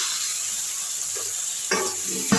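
Potatoes sautéing in hot oil for a drumstick and dried-fish curry give a soft, steady sizzle, with a couple of brief louder stirring bursts near the end.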